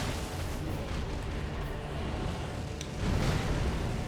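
An Elden Ring boss leaping up and wreathing himself in fire makes a dense, roaring rumble of flames that continues throughout and swells louder near the end, with no speech.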